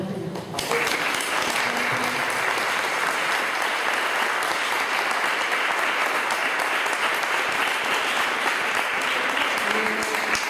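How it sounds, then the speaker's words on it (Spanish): Sustained audience applause at a school wordplay event, full steady crowd clapping that starts right after a brief spoken moment and continues evenly throughout, with faint voices beneath. "Les vamos a dar un aplauso."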